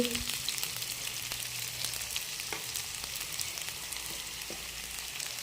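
Hilsa fish frying in a pan with salt, a soft steady sizzle with faint crackles running throughout at low volume, without talk.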